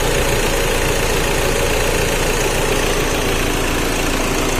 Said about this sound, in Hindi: तो देख सकते हो इसका जो इंजन है एकदम नॉर्मल है, अभी बिल्कुल मिसिंग नहीं कर रहा है इसके अंदर।